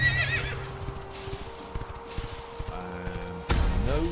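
Horse in the Quinfall game neighing and whinnying with a clip-clop of hooves, a sustained tonal whinny over rhythmic footfalls, then a louder burst near the end, close and clear.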